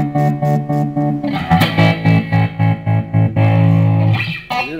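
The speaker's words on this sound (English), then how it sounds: "And American Crunch with probably a tremolo." Crunchy, distorted electric guitar chords through a Marshall CODE 50 amp's American Crunch setting pulse with a steady tremolo throb and a touch of reverb, the volume chopping rhythmically on and off, loud and up front.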